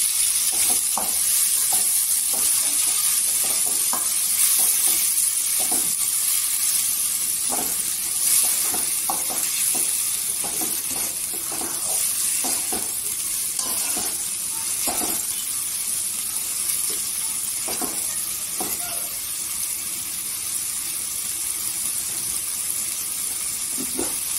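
Tomato puree poured over onions frying in oil in a pan, giving a continuous close sizzle and hiss with periodic scraping taps of a stirring spoon against the pan.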